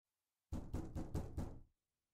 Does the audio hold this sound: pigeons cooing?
no